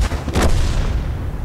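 A single booming cannon shot in a video game, a broad burst of noise that swells quickly and then fades into a rumbling tail, fairly loud and close.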